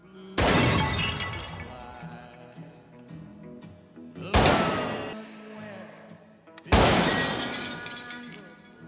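Gunshots shattering glass and other objects in Zombieland (2009), three loud separate blasts each followed by crashing, tinkling debris, with voices and background sound underneath.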